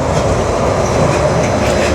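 The Disneyland monorail passes close by with a loud, continuous rumble and rolling rattle that fills the whole moment.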